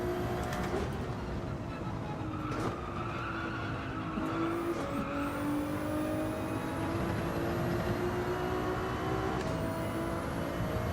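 A race car in the sim racing game Le Mans Ultimate slides around the Spa circuit, a steady engine whine running under a continuous tyre squeal and scrub that holds throughout without a break.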